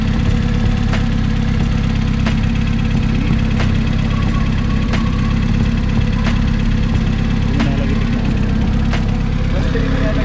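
Stock car engine idling at a racing event, a steady low rumble with a faint periodic tick, heard up close and continuous throughout, while people talk nearby.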